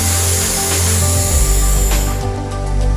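A voice imitates water spraying from a fireman's long hose with a loud, steady, breathy hiss lasting about three seconds, heard alone.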